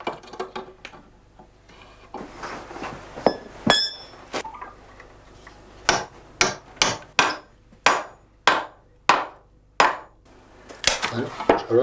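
Nails are hammered into the wooden frame of a handmade packsaddle, giving a series of sharp, ringing blows, sparse at first and then a rapid, even run of strikes close by.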